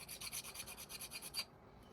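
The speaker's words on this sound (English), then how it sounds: "I'm just sharpening my chalk." A stick of tailor's chalk being sharpened gives a quick run of about a dozen rhythmic, close scraping rasps that stop abruptly, leaving quiet room tone.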